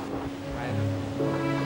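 Ocean waves wash steadily onto a beach, a broad close surf roar with a low steady hum running underneath.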